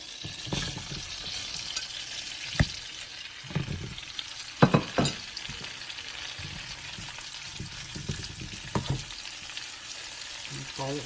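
Onions frying in butter in a pan give a constant soft sizzle, broken by several sharp clinks and scrapes of a utensil stirring against the metal.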